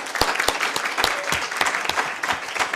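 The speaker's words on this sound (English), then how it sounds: "Can we just give a multiple of claps?" An audience claps at a Corps Africa Kenya close-of-service event, with dense, lively applause from a room of people that carries on steadily.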